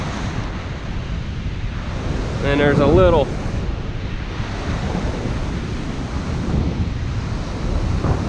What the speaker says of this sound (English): What we got is the tide's coming in. You can see the white water out there.